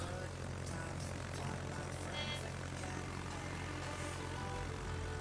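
Propeller aircraft in the naval battle game World of Warships drone steadily throughout, a continuous low engine hum with a faint higher whine, heard alone at moderate distance.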